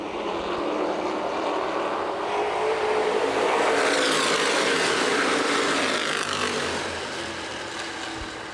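Street stock race cars accelerate as a pack at Winchester Speedway, a loud continuous roar of several engines that swells, holds steady near its peak, then eases slightly as the field passes, with no talk over it.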